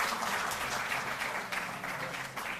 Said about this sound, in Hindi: जोरदार ताली बजती रहें।